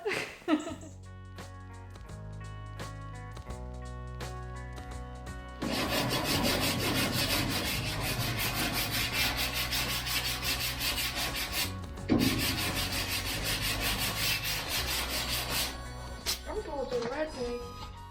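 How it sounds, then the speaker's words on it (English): Steady rasping of hand sanding scrubs back and forth over the fibreglass and body filler of a vintage Bedford truck for a long stretch, close and loud, with music playing underneath. "I finally joined in with some sanding, probably my least favourite job"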